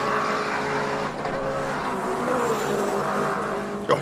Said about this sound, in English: you can hear that turbo whistling through there as well